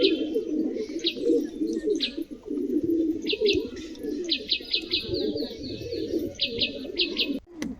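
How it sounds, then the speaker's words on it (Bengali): Several pigeons coo in overlapping low, throaty murmurs, with bursts of high chirps from other birds scattered through, fairly close. "এ পায়রা দুটো আর আবলু দুটো আমি বাহাদুরতার কাছে নিয়েছিলাম"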